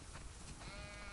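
A sheep bleats in The Last of Us Part 2, a faint, short wavering cry set against a low, constant background hum.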